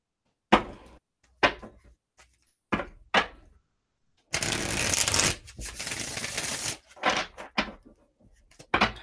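Tarot cards are handled up close: a few short slaps and taps, then a sustained riffling shuffle lasting a couple of seconds, followed by more light taps.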